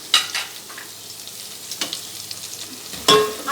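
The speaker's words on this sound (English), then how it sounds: "Now we have to stir it" Almond paste, grated coconut and poppy seeds stirred in a pan over a very low flame: soft continuous sizzle broken by a few sharp scrapes and clinks of the spoon, close up with no talking.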